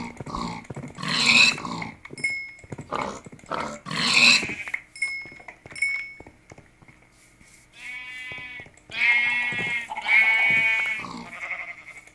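Sheep in the video game Minecraft give several bleats spaced irregularly across the stretch, some short and some drawn out, clear and close against a quiet background, with no talk.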